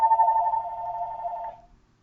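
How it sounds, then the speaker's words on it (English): A telephone rings once in a steady electronic tone, loud and close, holding for about a second and a half before cutting off into quiet. "Only reason why the phone was ringing was pharmacy."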